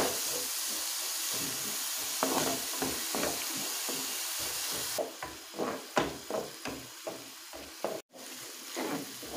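Chopped onions and garlic sauté in a pan with a steady sizzling hiss, broken by frequent scraping and stirring taps of a utensil close to the pan.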